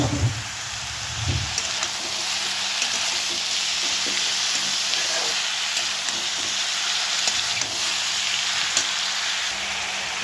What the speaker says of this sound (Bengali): পটলটা একটু ভাজা ভাজা হবে, তারপরে ওর মধ্যে আলু দেবো